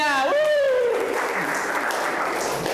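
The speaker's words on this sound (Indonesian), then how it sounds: "Tepuk tangan semuanya." A crowd of students and teachers at a school workshop bursts into applause right after a brief spoken cue, the clapping filling the room as a dense, even wash that holds steady to the end.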